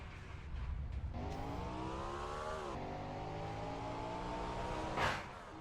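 A race car engine in a racing sim practice session at Daytona, a steady droning whine rising in pitch then dipping, with a brief louder whoosh near the end as a car passes close, no voices.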